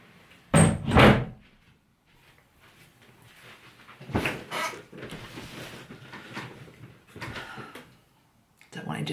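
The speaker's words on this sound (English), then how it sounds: "I'm just going to close the door." Indoor door being closed, several sharp knocks and thuds in separate bursts with quieter handling noise between them.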